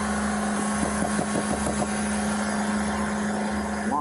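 A car engine idles steadily with the driver asleep and a foot on the gas pedal, a continuous low hum with a faint higher whine running unbroken throughout, no voices.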